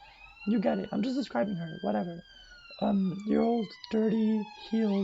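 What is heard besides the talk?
passing siren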